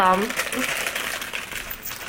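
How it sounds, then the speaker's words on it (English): Plastic packaging around a purchase of buttons crinkles and rustles steadily up close for about two seconds, with a brief voice at the very start. "apologies for the crinkling, was some buttons."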